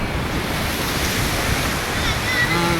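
Ocean waves wash onto a beach in a steady, loud roar of surf mixed with wind noise, continuous for the whole stretch with no talking.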